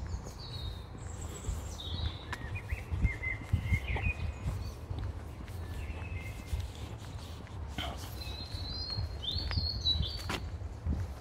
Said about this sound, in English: have you heard these birds making a lot of noise?